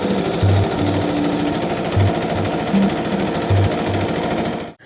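A sewing machine hems fabric for curtains, its motor running in a steady loud whir with short rhythmic thumping bursts of stitching that start and stop repeatedly, cutting off at the end.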